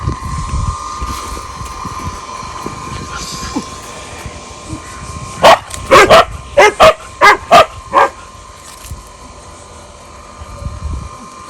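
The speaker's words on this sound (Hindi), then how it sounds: "ये रेस वाले कुत्ते हैं जी जी।" Several racing dogs bark in a quick burst of about eight loud yaps over a noisy outdoor background with faint voices.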